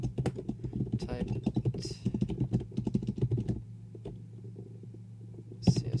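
Rapid clattering keystrokes as code is typed on a computer keyboard, in quick irregular bursts under a low hum, pausing briefly near the end before a final tap.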